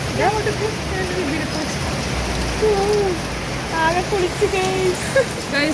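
Rain falls steadily at Maharaja's College while people talk over it, their voices rising and falling above the continuous patter.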